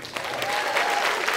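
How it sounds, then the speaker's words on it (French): Dense, enthusiastic applause fills a school performance hall at a regional secondary-school talent show in Gaspésie, steady and close throughout the short burst. "Applaudissez chaudement les écoles participantes."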